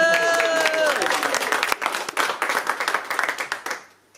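An audience at a slam poetry evening in a Cannes youth centre claps loudly and steadily, the applause thinning into scattered claps toward the end, with a few voices in the crowd.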